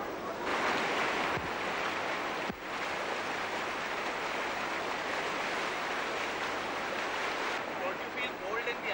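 Rushing water of the icy Ganga river in the Garhwal Himalayas, a steady broad roar with wind buffeting the microphone, someone talking over it throughout.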